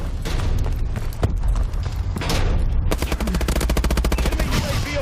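Rapid automatic gunfire crackles loudly in Call of Duty: Advanced Warfare during a Domination match, with scattered shots giving way to a dense, steady burst of close fire.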